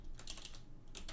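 Typing on a computer keyboard while coding a Windows API program, a close burst of clicking keystrokes in two short clusters with a pause between.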